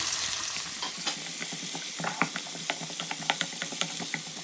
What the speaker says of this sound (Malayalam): ഇതിലേക്ക് നമ്മൾ അരിഞ്ഞു വെച്ചിരിക്കുന്ന കുഞ്ഞുള്ളി, പച്ചമുളക്, സവാള എന്നിവ ചേർത്ത് നന്നായിട്ടൊന്ന് വഴറ്റിയെടുക്കാം.